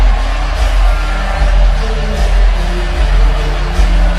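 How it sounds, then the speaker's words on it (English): A large crowd at a fighting event at Madison Square Garden roars and cheers continuously, a dense loud wall of noise with whoops rising above it and a voice faintly talking underneath. "This crowd on their feet. You can hear how electric this audience is here tonight for Malachi."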